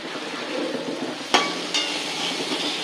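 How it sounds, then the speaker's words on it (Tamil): Bitter gourd sautés in a pan with a continuous, close hiss of frying, broken by two sharp knocks of a utensil against the pan. "இப்போ இது பாவக்காய் நல்லா வதங்கட்டும் பார்க்கலாம்"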